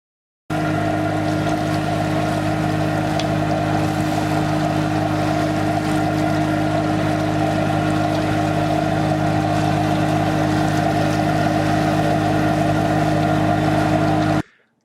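A motorboat engine drones steadily and loudly throughout at sea, a constant deep hum with no talking, like being aboard a boat underway offshore.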